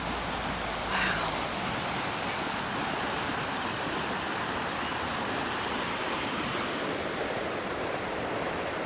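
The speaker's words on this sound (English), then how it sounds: "Look at the water pouring down." Continuous rushing water, a broad steady roar like a full creek pouring nearby, with no talking over it.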